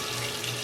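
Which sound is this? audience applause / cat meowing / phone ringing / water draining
water draining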